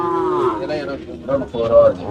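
Bargur hill cattle brought to a temple cattle fair in Anthiyur moo close by in long drawn-out calls, one following another, loud and clear.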